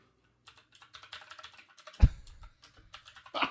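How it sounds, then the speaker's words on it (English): Keys clatter on a mechanical keyboard at close range, a quick irregular run of crisp clicks with one heavier thump near the end, and no talk over it. "I got a mechanical keyboard"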